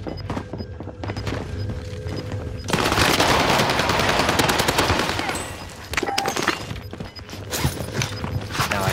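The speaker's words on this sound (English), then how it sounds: "Where the heck did I just get shot from?" Sustained automatic gunfire in Call of Duty Warzone on Fortune's Keep: loud, rapid bursts of shots that swell into a dense stretch of heavy fire in the middle, then break into choppier volleys.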